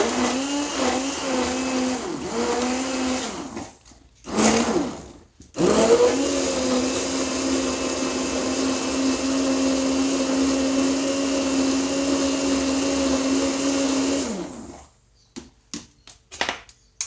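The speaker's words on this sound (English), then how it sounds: "so I'm going to put my stick blender in this now" A stick blender whirs steadily through liquid ingredients, its motor pitch dipping as it bogs down, with two short pauses and a brief restart, then it cuts off and ends in a few quick bursts.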